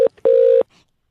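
Telephone line beeps during a phone call: a short tone followed by a longer steady beep, loud and clean, then silence.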